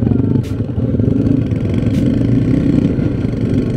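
A motorcycle engine runs loud and close with a rough, steady mid-pitched drone and faint clattering, heard on a trip along a mountain route.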